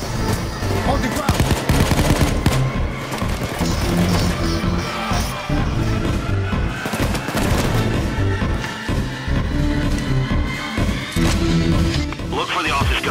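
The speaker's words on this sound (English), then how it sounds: "Now you can start shooting down there." Heavy video game gunfire around a pink nightclub, dense bursts of machine-gun fire and shots with crashes, loud and continuous, with game voices mixed underneath.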